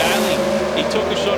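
A Pro Stock drag race car leaves the line early at a winter drag race: loud, rasping engine roar and tire noise fill the whole moment, with a commentator talking over it.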